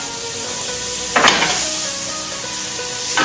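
A knob of butter melts in a hot frying pan, giving a soft, steady sizzle with a brief clatter partway through.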